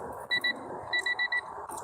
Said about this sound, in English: Oh, you mean the beeping? Yeah, it's stopping and then going again.